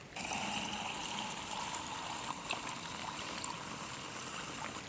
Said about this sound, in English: I'm going to try and pour the river water through the top here and see what happens